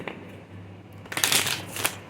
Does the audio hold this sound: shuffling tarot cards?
yes